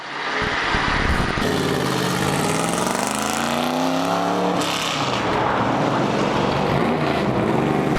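Stock race car at Charlotte Motor Speedway during a driving experience, the engine revving loud and close and then pulling away as the clutch engages, its pitch climbing and dropping through the run with no talking.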